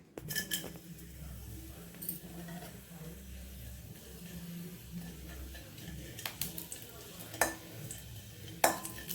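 Lump asafoetida fried in oil in a pan, with scattered metal clinks of utensils and a soft background hum, the frying itself faint and partly masked by clatter.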